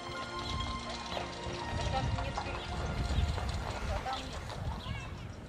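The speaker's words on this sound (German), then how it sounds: "Die Fahrt ins Glück mit Pferdekutsche und großem Tamtam." Hooves of a horse-drawn wedding carriage clip-clop steadily through St. Petersburg streets, close and continuous, mixed with a busy crowd and background music.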